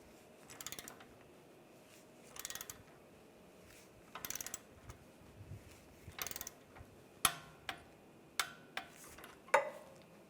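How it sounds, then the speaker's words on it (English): A ratchet tightens a bolt on a Jeep Wrangler tie rod adjusting sleeve, short bursts of quick clicking repeated several times, then sharper single clicks near the end, close and fairly quiet with no talk. "Now I'll tighten this bolt up. and torque this to 34 foot-pounds."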